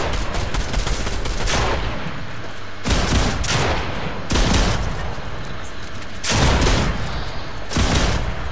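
Shotgun gunfire in the Fortnite video game: loud blasts and bursts of shooting come in several clusters over a steady noisy game backdrop, close and harsh.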